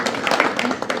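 An audience welcoming a guest at a High Court Bar Association gathering with a short, brisk burst of clapping, close and fairly loud.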